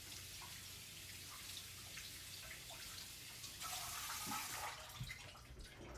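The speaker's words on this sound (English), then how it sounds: "I need to wash these." Blueberries being washed under a running kitchen tap, a steady faint rush of water with small splashes and a brief louder gush partway through.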